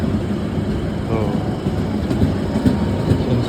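Steady rumble of a moving executive passenger train with facing seat rows on the way to Cilacap, heard from inside the carriage, with faint rhythmic rail clatter and a brief murmur of voices over the continuous loud roar.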